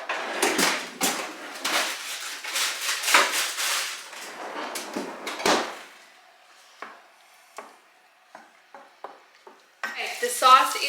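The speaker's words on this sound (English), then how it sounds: "the sauce is now boiling" Sauce with meatballs bubbling and sizzling in a pan on the stove, with loud stirring and scraping that settles after a few seconds into softer bubbling and occasional clinks of utensils against the pan.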